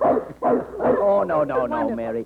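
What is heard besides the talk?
large dog barking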